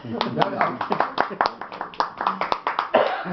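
A small class audience clapping for a student named Alan, a brief patter of uneven hand claps in a room with voices talking over it.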